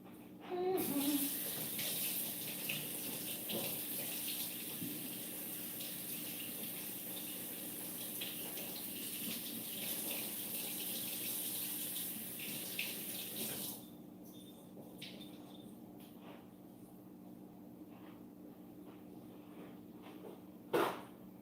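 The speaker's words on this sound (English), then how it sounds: "Let me rinse it off in the sink and pat it dry in a towel." A kitchen sink tap runs steadily while cilantro is rinsed, giving a continuous rushing stream of water that stops partway through. Quiet handling noises follow once the water is off.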